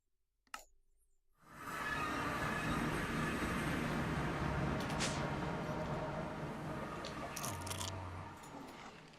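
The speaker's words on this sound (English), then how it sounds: "You crunched a root beer barrel." A root beer barrel hard candy gets crunched between the teeth close to the mic, with a sharp bite followed by several seconds of dense, grinding crunching that fades slightly toward the end.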